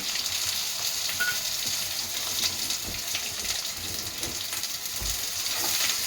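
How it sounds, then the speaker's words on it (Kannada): Mustard seeds, a couple of curry leaves and finely chopped onion sizzle in hot oil in a pan for tomato kurma, a steady soft crackling hiss with occasional stirring clinks, fairly quiet and continuous without talk. "ಒಂಚೂರು ಫ್ರೈ ಮಾಡ್ಕೊಳ್ಳೋಣ. ಇದೊಂಚೂರು ಕೆಂಪಗಾಗಲಿ."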